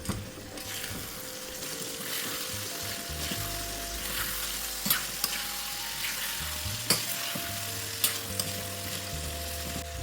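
Tomatoes and bean pods for a sprouted moth bean bhaji frying in a pan, with a steady close sizzle and occasional scraping stirs and clinks of a spoon.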